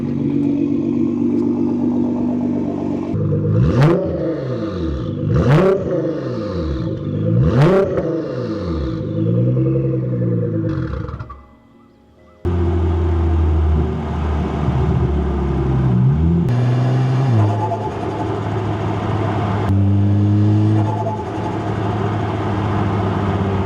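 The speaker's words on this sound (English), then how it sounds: "And this car is really loud. It's a Meister shaft exhaust," A Nissan GT-R with an aftermarket Meister exhaust revs hard three times from idle, with sharp rising-falling blips. A brief quiet gap follows, then it settles into a loud, rumbling idle with further throttle changes.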